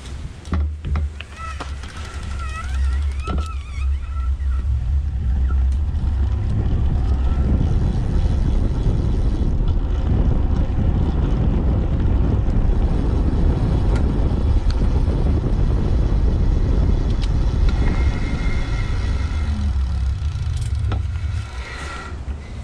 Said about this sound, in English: You can hear that motor.